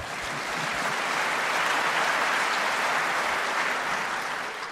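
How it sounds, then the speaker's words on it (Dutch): Audience at a Frisian sports gala applauding a guitarist introduced on stage, a broad, even roar of many hands swelling and holding for several seconds before tapering slightly. "Hij mag applaus voor."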